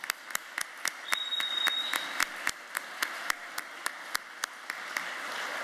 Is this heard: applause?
yes